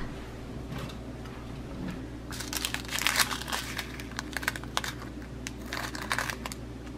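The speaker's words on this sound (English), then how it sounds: "So now we will open the brand new package of goodness." A new plastic package of diamond painting supplies is opened up close, with bursts of crinkling and crackling plastic that come and go irregularly, a soft hum running underneath and no talking.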